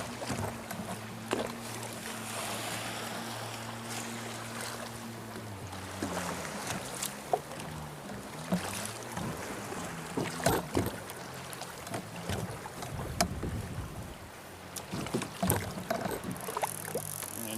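A motorized kayak running on Lake Tahoe, with a low steady motor drone under wind buffeting and splashing water, plus scattered knocks and clatter from the hull.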